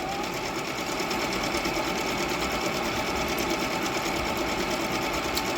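A Jaguar CD2204W zigzag sewing machine stitches steadily and fast on a simple straight seam, a continuous close mechanical whir with a fine rapid needle patter and no pauses.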